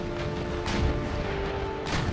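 Warship cannon fire in the naval battles of Empire Total War, Gran Colombia ships such as the Rayo pounding the Prussian fleet: a dense, continuous low rumble of booms with a couple of sharper blasts standing out.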